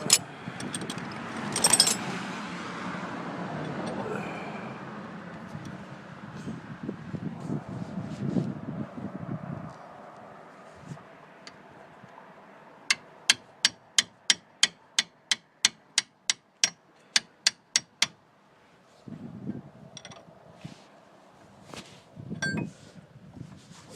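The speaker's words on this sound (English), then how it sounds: "I have to do this one with a wrench." A wrench works loose the brake bolts on a Subaru Outback, with a quick run of sharp metallic ratchet clicks in the middle, plus scattered clanks and clinks of tools against metal under a breezy outdoor background.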